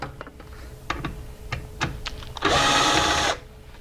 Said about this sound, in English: I'm going to remove the screws that are holding the lower section in place.